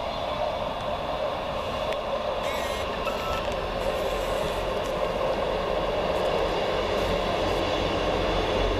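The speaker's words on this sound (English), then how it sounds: "Ah, here comes my train. 15:32, Northern Rail service to York" A Northern Rail diesel train on the Blackpool North to York service pulls into Cross Gates station, a steady loud rumble of engine and wheels with a faint high tone, no voices.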